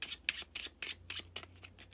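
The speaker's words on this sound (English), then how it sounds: "Overhand shuffle next." Cards are shuffled by hand in an overhand shuffle, a steady series of soft, quick slapping swishes, close by and unaccompanied.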